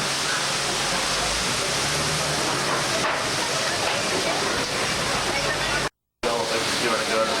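A staged flash flood rushes through a canyon set on a studio backlot tour, a loud, continuous roar of churning water that fills the scene, briefly cut to silence near the end, with a voice faintly beneath.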